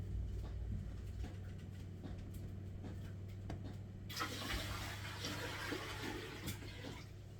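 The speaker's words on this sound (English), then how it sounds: "I'm just filling the canner up with water." Tap water pours into a canner being filled for canning sauerkraut. After a few seconds of quiet room hum, the rushing, splashing stream starts and runs steadily, close and fairly loud.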